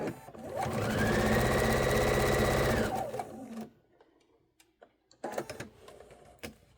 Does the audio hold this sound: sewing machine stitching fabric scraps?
yes